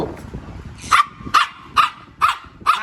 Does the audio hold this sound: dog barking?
yes